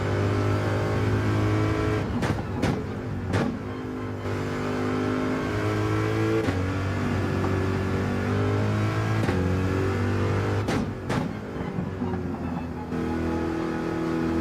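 Race car engine in Gran Turismo 7 on an outlap at the Nurburgring, a steady loud harmonic drone that holds throughout with a few sharp gear-shift breaks and pitch changes as it revs.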